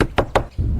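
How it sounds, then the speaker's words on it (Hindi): Two sharp knocks on a door of a run-down, broken house land close and loud in quick succession, followed by a low rumble. "ये तो दरवाजे की आवाज है।"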